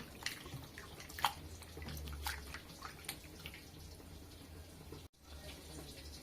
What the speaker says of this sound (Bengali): এটার উপরে পানি দিয়ে দিচ্ছি, ভালোভাবে ধুয়ে পরিষ্কার করে নেব।